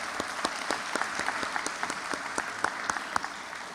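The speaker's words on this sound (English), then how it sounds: "I can give them all a round of applause." At a high school awards ceremony, an audience gives the students a round of applause: a soft, somewhat distant wash of clapping with individual claps popping out now and then.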